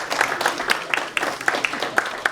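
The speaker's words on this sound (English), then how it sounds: "Round of applause for them," Applause from an audience at an annual meeting, a steady patter of clapping hands at moderate volume with a few sharper individual claps standing out.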